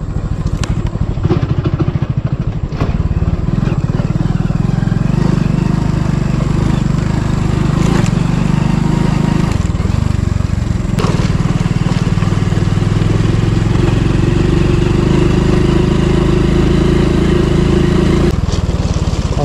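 A motorcycle rides over a rough road under construction near Indira Point, Campbell Bay, its engine droning loudly and steadily throughout with bumps and rattles jolting through.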